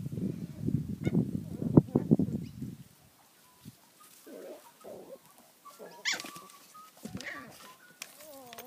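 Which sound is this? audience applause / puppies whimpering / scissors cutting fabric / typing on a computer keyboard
puppies whimpering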